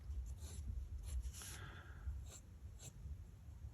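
Pen strokes scratching across paper in short, soft bursts while drawing a cartoon robot, faint and close against a low steady background hum.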